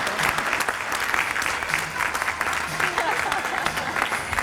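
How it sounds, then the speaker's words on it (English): Applause from an awards-ceremony audience honoring the county volunteers of the year, steady dense clapping that stays loud and even for the whole stretch. "Please join me with a huge round of applause for our Worcester County Volunteers of the Year, Scott and Lisa Phillips."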